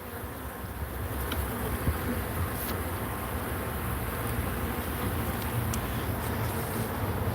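Honey bees hum around an open hive in a continuous, close buzz, steady and moderately loud, with a faint breath of wind and no speech.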